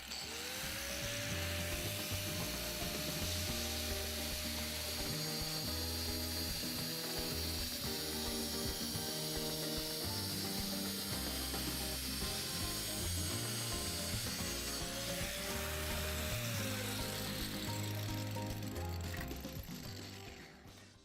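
An electric drill fitted with a plate cutter attachment cutting through a mirror: a continuous loud whining, grinding drone with a steady motor tone and harsh scraping, running unbroken for about twenty seconds.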